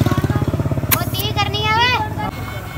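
A motorcycle engine on a road throbs with a steady low pulse at first, then a voice and other noise rise over it as the engine fades lower in the mix.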